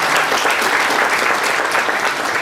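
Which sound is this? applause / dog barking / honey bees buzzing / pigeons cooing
applause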